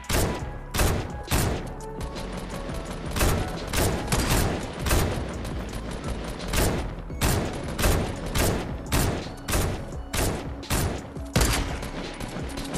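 Gunfire in a Fortnite battle royale match, including a thermal assault rifle: loud, close bursts of rapid shots in repeated volleys, evenly spaced and filling the whole stretch, with no talk.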